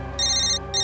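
An electronic phone ringtone trills in two short bursts with a brief gap between them, close and clear over a low steady hum.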